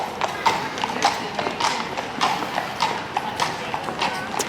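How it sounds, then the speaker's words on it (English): Horses' hooves clip-clop steadily on a hard surface outdoors, a brisk rhythmic series of clear clops at moderate distance with faint background ambience. "Oh look, horses."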